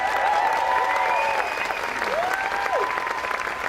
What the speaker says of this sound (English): How about another round of applause for our Governor, Michelle Lujan Grisham?